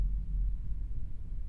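Heartbeat sound effect in the Echo visual novel video game: a low, muffled thumping pulse repeating steadily over a dull droning hum, heard alone without voices.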